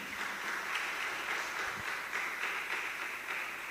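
A church congregation applauding during a worship night service, a dense, steady wash of many hands clapping together that holds evenly throughout, with no speech over it.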